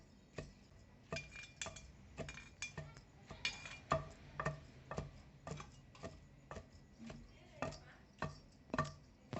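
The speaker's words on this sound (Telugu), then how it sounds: "ఒక్కల ముక్కలుగా దంచుకోవాలి." Okra being pounded into coarse pieces for a Telugu-style chutney, likely in a mortar; a steady series of sharp, moderately close thuds and clinks in an uneven rhythm, with no talk.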